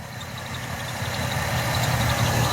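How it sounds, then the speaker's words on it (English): A 2009 Chevy Malibu engine idles roughly, likely from a bad ignition coil, with a close, low, steady rumble that swells a little over a couple of seconds, with no talking. "Listen how my car's idling."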